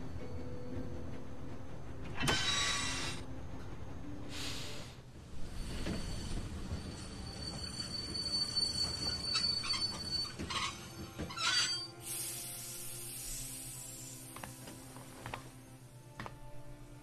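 A moving train in The Walking Dead game rumbles and rattles steadily, with sharp metallic wheel squeals and clanks cutting through, louder bursts near the end.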